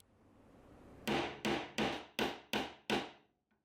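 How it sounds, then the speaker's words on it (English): A wooden mallet strikes a chisel hoop six times in steady succession, flattening the protruding edge of the wooden chisel handle over the katsura; the blows are sharp and close, evenly spaced, with no talking. "flatten the protruding edge of the handle over the chisel hoop using a mallet"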